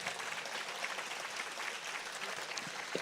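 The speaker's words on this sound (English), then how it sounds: "And she deserves a huge round of applause for that." Steady audience applause at the Adelaide Writers' Week literary festival, a dense, even patter of many hands clapping for about three seconds with no voices on top.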